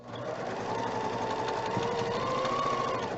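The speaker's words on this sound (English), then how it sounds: "I'm going to back stitch here on these rows because these blocks are not going to be assembled into a quilt for 9 more months" A sewing machine back stitching rows of quilt blocks, running as a steady, close mechanical whir with a continuous buzzing hum throughout, alone without talk.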